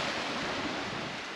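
Sea waves of the Alboran Sea in late November, heard as a steady, dense wash of surf close by, continuous and fairly loud with no voices.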